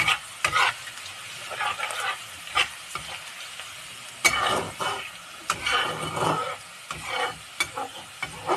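Duck meat fries in a pan, crackling and sizzling close by while a utensil stirs and scrapes in irregular bursts, with occasional clinks of metal against the pan and no one talking.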